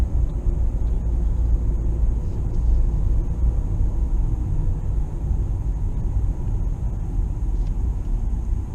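A car drives the back roads home from the airport in Kathmandu, heard from inside as a steady, loud low engine and road rumble that runs unbroken throughout with no talking.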